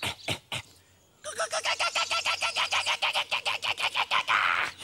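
Rapid repeated bird calls from a calling competition, a fast pulsing run of bright chirps after a few opening notes and a short lull, loud and close with no talk.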